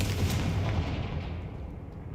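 A Confringo fire spell exploding in Hogwarts Legacy, a deep, booming blast whose rumble fades away over about two seconds.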